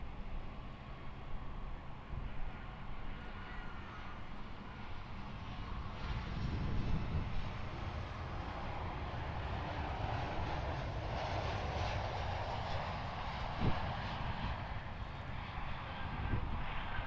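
A Velocity Boeing 737-700 airliner lands at Perth Airport, its steady broadband jet roar continuous and moderately distant, swelling slightly midway with faint higher whine, no voices.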